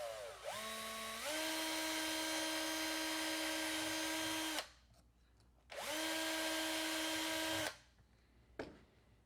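A small high-pitched 1.5 millimeter drill whines in two long bursts while drilling out holes in RC door hinges, spinning up, running steadily for a few seconds, then stopping, with a quiet pause between.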